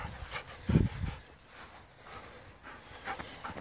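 A pet dog that fetches makes a few close, short sounds, a brief bark-like burst followed by soft panting and whimpers in a quiet room.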